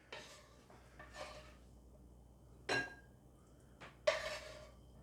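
Egg fried rice scooped onto plates, with a few distinct clinks and scrapes of a serving spoon against crockery, sparse and close, with quiet pauses between.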